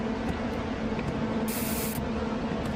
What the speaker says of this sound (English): Good thing I brought the pepper spray.